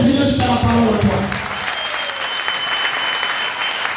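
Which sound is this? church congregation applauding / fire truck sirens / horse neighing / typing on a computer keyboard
church congregation applauding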